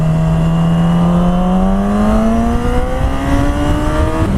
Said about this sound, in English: I love the sound of the engine. It's really revvy.